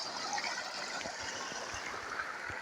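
Irrigation water from a motor pump runs steadily into a wheat field, a continuous broadband rush and trickle that stays fairly even throughout, with no voices.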